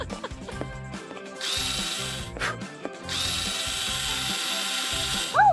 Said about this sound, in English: All I gotta do is tighten the screws.